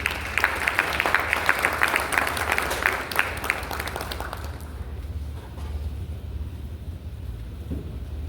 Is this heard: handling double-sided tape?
no